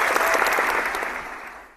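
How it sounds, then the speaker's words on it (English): Applause sound effect played over a marketing webinar: a steady wash of many hands clapping, dense and fairly loud, fading slightly toward the end, with no talk over it. "So here, I think I can pull up some applause here."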